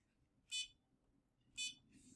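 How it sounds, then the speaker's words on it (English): A small circuit-board buzzer sounds two short, evenly spaced electronic beeps at a set 500 Hz pitch, each about a tenth of a second, clear against a quiet room. "The buzzer plays at a frequency of 500"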